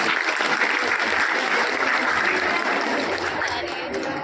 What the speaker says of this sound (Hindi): इनके लिए जोरदार तालियां हो जाते।